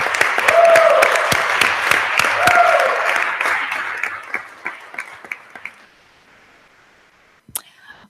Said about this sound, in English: So a round of applause for his accomplishments and his vision.